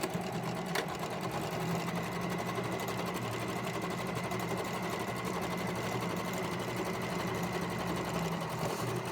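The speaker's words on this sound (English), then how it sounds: "then stitch down that whole short side" A sewing machine stitches down the short side of a fabric face mask, its steady motor hum and rapid needle rhythm running continuously and close for the whole stretch, with no voices.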